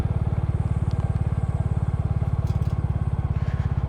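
A Royal Enfield Classic motorcycle rides an off-road trail, its single-cylinder engine thumping in a fast, steady pulse close by, with faint scrapes and clatter from the ground.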